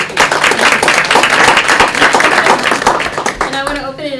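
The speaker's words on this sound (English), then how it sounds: "So I want to just recognize and give a round of applause to Rebecca Donham, Tammy, Calise, and Barry" A room of attendees at a talk on cross-sector health partnerships breaks into dense, loud applause, many hands clapping steadily for about three seconds before it thins out and a voice begins speaking.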